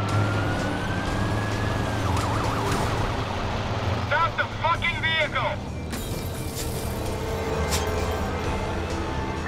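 A police car siren wails in the video game Watch Dogs during a driving chase, its rising and falling tone rolling over engine and traffic noise, with someone talking excitedly throughout.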